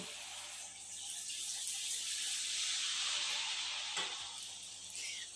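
Malpua batter fries in hot oil with a faint, even hiss that swells slightly midway and carries on alone, with no speech.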